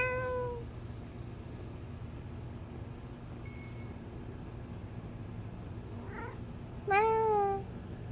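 A cat meows a few times, a short meow at the start, a faint call midway and a louder drawn-out meow near the end, over a low steady background hum.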